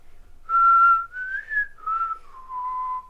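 Someone whistles a short melody alone, a clear, steady phrase of several sustained notes sliding gently between pitches.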